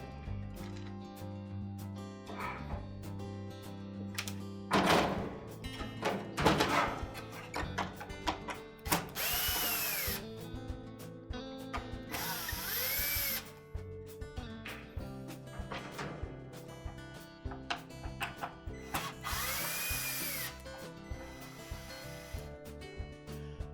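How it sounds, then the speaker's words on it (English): Power drill unscrewing the screws that hold a control board to an appliance console, several loud whirring bursts that rise and fall in pitch, separated by clicks and handling noise, close and with no talking. "remove the screws that secure that control board to the console"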